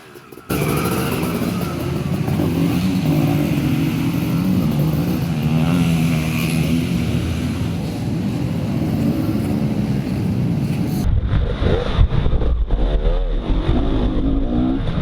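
Motorcycle engine droning and revving steadily through practice laps on a motocross track with jumps at a race day in South Thailand, loud and continuous, shifting to a rougher, closer rumble near the end.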